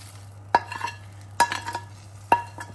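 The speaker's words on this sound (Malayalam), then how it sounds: "ശേഷം വറുത്ത് വെച്ചിരിക്കുന്ന ഇതെല്ലാം മിക്സ് ചെയ്യുക" Fried ginger, garlic, shallots and chilli powder mixed in a pan for ginger curry, with three distinct spoon knocks and scrapes against the metal over a faint sizzle, close and quiet, no voices.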